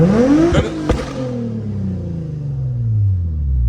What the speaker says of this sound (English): try revving up just a little bit. Okay. Just rev it in.